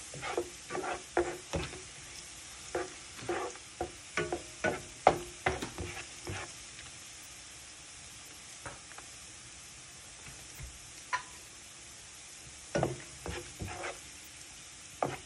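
Garlic browning in a pan for a simple ampalaya breakfast: soft sizzling under bursts of quick, light stirring clacks, then a quieter pause of gentle frying before the stirring resumes, close and fairly faint.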